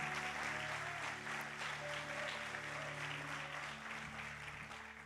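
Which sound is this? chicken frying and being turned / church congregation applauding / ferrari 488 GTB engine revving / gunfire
church congregation applauding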